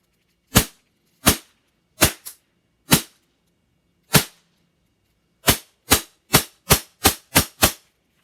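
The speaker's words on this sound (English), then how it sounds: "So I'm going to take a couple rounds of semi-auto." A CO2-powered old-school airsoft gun fires single semi-auto shots outdoors: loud, sharp cracks, first several spaced irregularly, then a quicker run of about seven in a row, with no talking.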